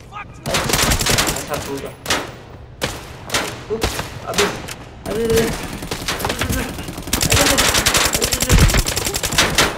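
Rapid automatic and single gunfire in the shooter video game Arena Breakout, loud and nearly continuous bursts, with someone talking briefly over the shots.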